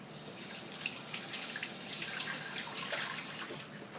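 Tap water runs into a sink to wet hands while making artisan bread dough, a faint, steady hissing splash lasting a few seconds with no talking.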